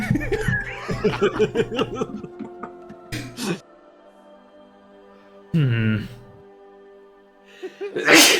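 Laughter and chatter lead into a single sharp sneeze, followed by a pause, a brief voiced burst, and another abrupt noise at the end.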